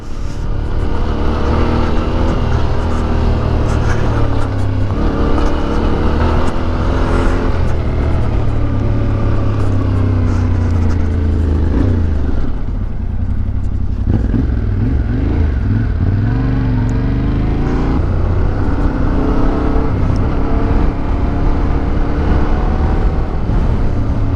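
A Yamaha Tenere 700 motorcycle rides on dirt on its first off-road outing, its engine roaring loudly and steadily throughout, rising and falling with the throttle, with no voices.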